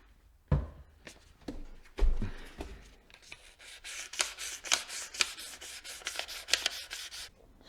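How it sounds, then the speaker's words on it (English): Wet sanding an aluminum wheel rim with 1000 grit sandpaper, a few knocks at first, then repeated rhythmic rasping strokes, close and fairly quiet. "I'm going to use 1000 grit sandpaper to polish this up"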